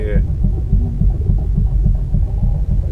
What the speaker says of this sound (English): Is that your heartbeat, dude?